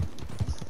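Horse hooves pound in a fast gallop in the video game Red Dead Online, a quick, rapid, close run of thudding clip-clop beats.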